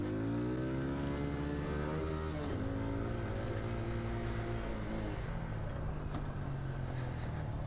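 A Kawasaki Ninja 400 motorcycle is ridden on the road, its engine rising and falling in pitch as it revs up and shifts, loud and steady throughout with constant wind and road noise.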